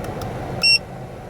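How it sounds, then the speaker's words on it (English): A PAPAGO TPMS100US tire pressure monitor gives one short, clear electronic beep when its button is held, over quiet car cabin hum. "you hold the button down for a few seconds and it'll beep once"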